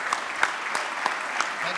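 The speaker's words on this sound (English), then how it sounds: "I think we should all have a great round of applause for John for all the efforts he's put together." Steady audience applause at a closing ceremony, dense and continuous with a few sharper individual claps standing out, fairly loud and close throughout the short burst.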